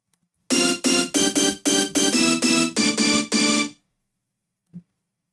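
Layered rave stab synth from the Rave Generator 2 preset, a bright buzzy chord hit repeated about eight times in a choppy rhythm, loud and alone, then cut off, with a faint low thump near the end.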